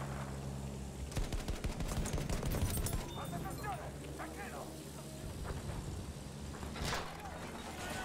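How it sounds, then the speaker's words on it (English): Battlefield 1 gunfire on the Caporetto map, rapid machine-gun bursts and scattered shots with a dense rattling volley early on, mixed with shouted voices and battlefield noise. "They are shooting me!"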